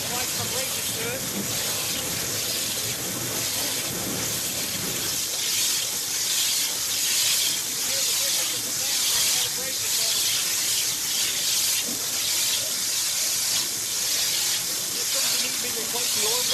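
Steady, loud hiss of a KMT Autoline II waterjet cutting head firing a tight stream of pure water at about 55,000 psi, continuous and unbroken throughout.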